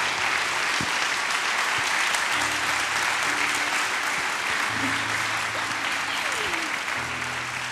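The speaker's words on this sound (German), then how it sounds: "Auch ein Applaus" A crowd applauds at a live church youth event in a park arena: loud, continuous clapping with a low hum and faint background voices underneath.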